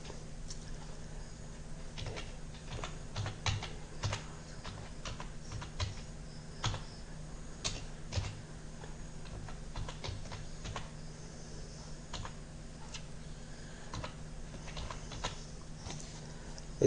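Someone types an email on a computer keyboard, a close, quiet patter of key clicks in uneven bursts with short pauses between them, continuing throughout.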